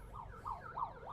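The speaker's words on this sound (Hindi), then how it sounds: "ये देखो एम्बुलेंस जा रही है" An ambulance siren wails in repeating rising-and-falling sweeps as it passes along the Meerut–Agra road, moderately loud over low traffic rumble, with no speech.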